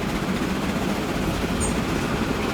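A double-header goods train hauling machinery in the Transport Fever 2 game, a continuous low rumble and rolling clatter of wagons passing nearby, with a brief high squeal partway through.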